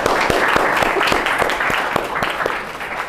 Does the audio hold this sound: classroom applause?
yes